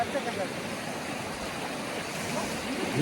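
Steady broadband rush of flowing river water, continuous and fairly close, with a slight swell near the end.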